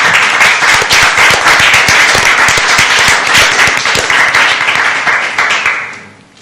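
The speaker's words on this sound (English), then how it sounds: "So I just want to give you a round of applause." An audience applauds speakers at a talk on bike and pedestrian issues in transportation planning, loud dense clapping sustained for about six seconds before fading out at the end.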